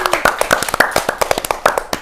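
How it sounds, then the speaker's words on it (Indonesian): A small audience claps for the Dieng Bersih volunteers in Wonosobo, close and fairly loud, with individual claps distinct in a quick, uneven patter rather than a dense roar. "Tepuk tangan dong untuk Dieng Bersih."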